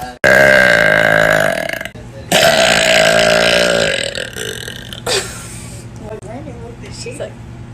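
A girl lets out two very loud, long, drawn-out burps, the second one rumbling on for several seconds and then fading, with some faint sounds from other people afterward.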